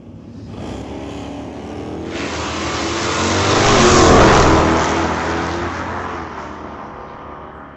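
Old-time drag race cars launch off the line at a vintage drag strip, a loud engine roar that swells from about two seconds, peaks near four seconds and then trails off as the cars pull away, with no talk.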